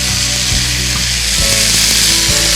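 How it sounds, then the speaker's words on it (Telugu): Onions, tomatoes and mint frying in a pan for chutney give a loud, continuous sizzle, with a few close scraping stirs of a utensil against the pan. "మన ఉల్లిపాయలు, టమాటాలు ఇంకా పుదీనా కచ్చపచ్చగా వేగిపోయింది కదా"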